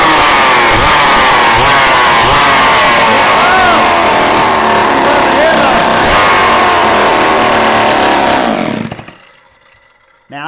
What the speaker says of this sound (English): Let's see if this old saw will run.